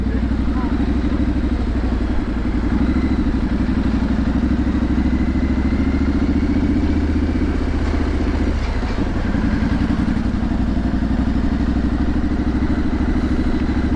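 A Triumph Street Scrambler 900 motorcycle engine runs on a ride through town, a loud, steady, close throbbing drone that holds almost unchanged throughout, with a brief dip near the middle.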